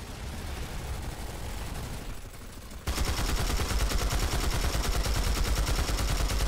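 Sustained massed gunfire in the online shooter Planetside 2, many weapons firing at once in a dense, continuous roar that turns suddenly louder partway through, with no talking.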